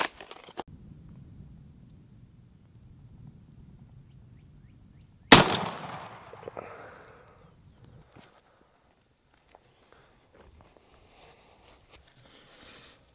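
A Winchester SX4 shotgun loaded with Winchester Double X 3-inch No. 5 shot and an Undertaker choke fires once outdoors, a single sharp loud blast followed by a short decaying echo, with quiet rustling before and after.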